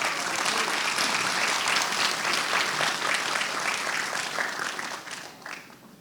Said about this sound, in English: Please give a round of applause for Erin.